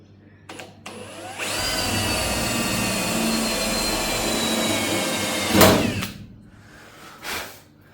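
A power drill bores into the metal cowl of an HQ GTS coupe during a rebuild, giving a steady loud whine for about five seconds that ends in a sharp burst, followed by a shorter rattle.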